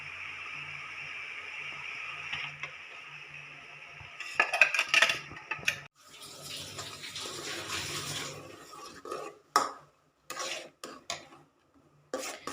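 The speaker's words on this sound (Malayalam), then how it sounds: "ഇനി ഇത് നല്ലോണം നല്ല ഇളക്കി കൊടുക്കണം" Blended mango purée being stirred in a pan for jam, giving soft scraping and wet stirring scrapes with a few sharper clinks of the spoon against the pan, close and moderately loud, in irregular bursts.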